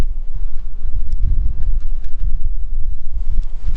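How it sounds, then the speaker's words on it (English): Strong wind buffets a microphone outdoors in the cold Tibetan Changtang, producing heavy low rumbling gusts that swell and fall continuously. "The wind is too strong."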